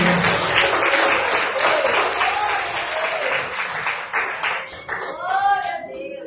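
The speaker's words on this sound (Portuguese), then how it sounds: "Pode louvar o Senhor com mais palmas." A church congregation claps loudly and steadily in praise, a dense wash of hands with a few rhythmic beats, while voices call out and sing over it toward the end.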